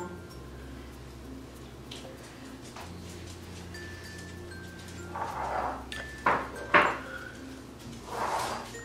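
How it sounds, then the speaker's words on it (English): A child eating ramen noodles, heard as soft clinks of utensils against a bowl and occasional louder scrapes and clatters toward the end, close but fairly quiet over a low room hum. "That's my kid eating, by the way. She's eating ramen noodles right now."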